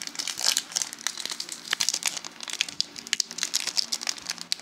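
Close, continuous crinkling and crackling of thin foil wrapping as a Lost Thunder trading card booster pack is crumpled and torn open, with quick irregular rustles.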